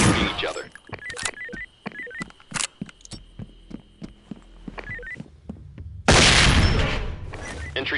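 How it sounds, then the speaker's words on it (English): Gunfire in the SWAT 4 game: a rapid run of sharp, close shots in uneven bursts, followed by a louder, denser blast of noise near the end. "we think they started shooting each other"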